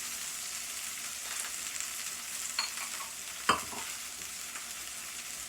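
Plant-based veggie burgers made with almond pulp fry in a pan beside broccoli, giving a steady, soft sizzle with a few faint stirring clicks and one sharper scrape near the end, no voices.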